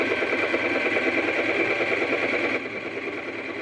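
Usha Janome Stitch Magic sewing machine running a line of stitches, a steady close mechanical whir with rapid needle rhythm that drops slightly in level near the end, no talk.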